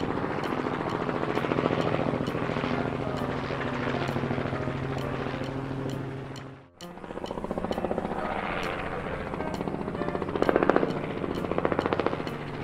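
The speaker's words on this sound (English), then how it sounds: "Agricultural helicopter." An agricultural helicopter thumps overhead with a fast, steady rotor chop, loud and continuous, briefly cutting out for a moment midway before resuming.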